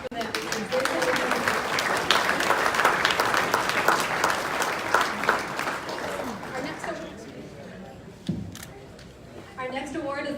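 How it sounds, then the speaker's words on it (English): A banquet hall audience at an agricultural appreciation awards banquet in Aberdeen claps in a dense, sustained round of applause that thins out after several seconds, with a voice speaking over the end. "one more big round of applause for them"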